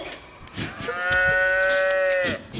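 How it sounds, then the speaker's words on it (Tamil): A calf moo played as a sound effect in a school play staged at a Tamil school's annual day, one sustained tonal lowing call of about a second and a half, loud and close over faint stage noise. "இந்த கன்று திடீரென இங்கு வந்தது."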